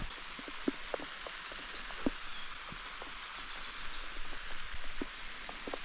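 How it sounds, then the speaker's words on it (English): Rain falls outdoors beside a firewood shed with its roof under construction, a steady soft hiss broken by scattered sharp drips and taps landing at irregular moments. "Why is it raining?"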